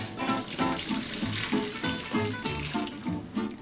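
Boiled sugar snap peas drained from their hot water, a steady rush of pouring water with rhythmic splashing and clattering pulses, close and fairly loud with no talking.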